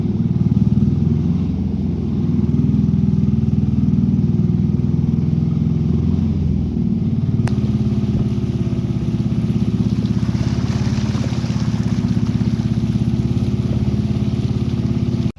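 A fishing trawler's engine drones steadily, a loud low rumble that runs throughout with a slight shift in tone midway.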